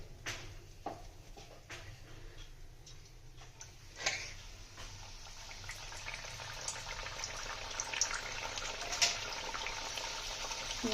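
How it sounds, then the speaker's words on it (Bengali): Pea-stuffed kachuri frying in hot oil in a wok, giving a steady close bubbling crackle that grows busier and louder midway, with scattered sharp pops and ticks and no talk. "আমরা তেলও বসিয়ে দিয়েছি, ভেজে নেব"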